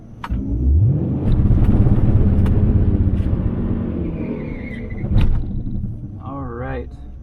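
A cammed Dodge Challenger R/T V8 rumbles loud and close on a hot lap against a Camaro SS, holding a steady heavy drone with a brief surge of revs near the end.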